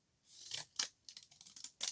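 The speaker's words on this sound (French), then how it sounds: "Je vais faire des coups de ciseaux" Scissors snip through paper for scrapbooking in a quick series of sharp, close cuts with brief pauses between them, no talking.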